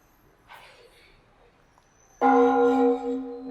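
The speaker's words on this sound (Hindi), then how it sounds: "यहाँ पे इनका घंटी सी है, ये इसको इस हथौड़े से बजाते हैं" A bell struck once with a hammer at an 800-year-old university in Vietnam, giving a sudden loud metallic clang that rings on with a bright sustained tone and slowly decays, following a faint earlier sound.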